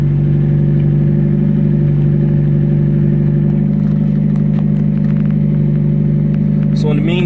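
A Mazda Miata MX5 engine idles high while warming up, a steady, loud, even hum with a constant low drone and no change in revs, plus a short clatter right at the end.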